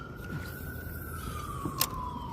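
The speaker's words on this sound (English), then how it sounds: "The wild ambulance sirens." An emergency vehicle siren wails outdoors during a fishing outing, one steady, slowly falling tone carrying over constant background ambience without anyone talking.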